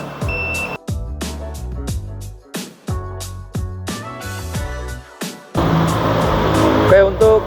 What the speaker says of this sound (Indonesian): Nah, maka sepeda listriknya akan berjalan dengan mundur.